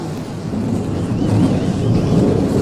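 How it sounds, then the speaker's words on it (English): Late model race car engines start up together at Flamboro Speedway, forming a loud, steady, broadband roar that holds for the whole stretch with no talk over it. "Drivers, start your engines."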